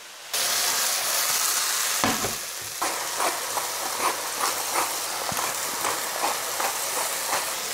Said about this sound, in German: Nachdem das Gemüse dann etwas angebraten ist